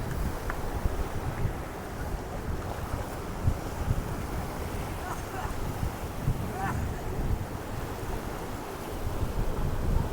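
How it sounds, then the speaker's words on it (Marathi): Floodwater from the swollen Bhima river pours over a bridge linking two talukas, a constant rushing roar mixed with wind buffeting the microphone, steady and moderately loud throughout. "पाणी वर यायला लागला आता दिसलं का पुलाच्या वरून पाणी यायला लागलं"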